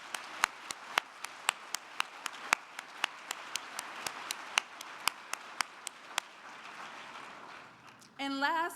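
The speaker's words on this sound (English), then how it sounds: "Please help me give a thunderous round of applause for all of our corporate sponsors." Sparse, slow hand claps ring out at a gala dinner honoring corporate sponsors, distinct individual claps over a quiet room, thinning out before a voice starts speaking near the end.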